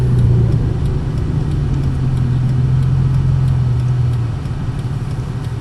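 A car engine idles steadily at about 850 rpm with its emission controls working, giving a close, even low rumble with no revving and no talk over it.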